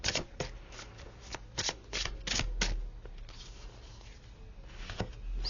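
A deck of playing cards is shuffled and handled up close, giving quick riffling bursts and sharp flicks alone in a quiet room.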